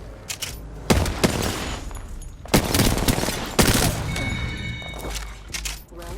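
Heavy bursts of automatic gunfire and sharp single shots from Apex Legends ring out in rapid, irregular volleys, loud and close, with a few game sound effects between them.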